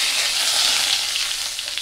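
Pre-fried potatoes hit hot oil seasoned with bay leaf, cardamom, cumin, cinnamon and cloves, producing a loud, continuous close-up sizzle that eases slightly toward the end with no speech.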